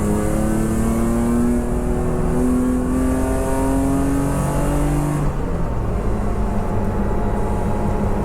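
A BMW E30 race car engine drones loudly and steadily from inside the car on the Dijon circuit during a Superberline sprint race, the pitch climbing through the gears and then dropping, with no talking.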